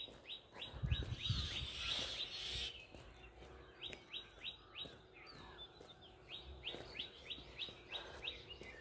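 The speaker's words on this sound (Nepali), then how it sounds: "कति कराउँछ चराहरू च्याउ च्याउ च्याउ।" Birds chirp outdoors in a repeating series of short, bright tweets, with a brief louder burst of noise near the start, then steady spaced calls that sound fairly close.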